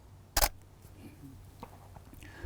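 A camera shutter fires once with a sharp, crisp mechanical click, close and prominent against quiet room tone, followed by faint small handling sounds.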